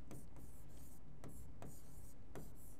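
A table written out by hand, with quick, close scratchy pen strokes in short rhythmic bursts separated by brief pauses. Nobody talks.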